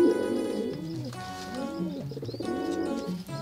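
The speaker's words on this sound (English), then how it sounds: "Pigeon watching." Pigeons coo softly in repeated low, rolling phrases, fairly close, with faint background noise and no clear talk.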